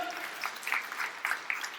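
A church congregation applauds during a sermon, scattered, uneven clapping with distinct separate claps rising and falling rather than a dense roar, fairly faint and roomy.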